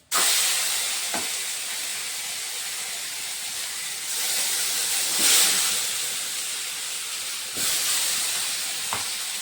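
Spices tipped into hot oil in a pan with whole spices and bay leaves for a Bengali banana kofta curry, giving a steady loud sizzle and hiss that surges a few times with faint clinks, with no talk.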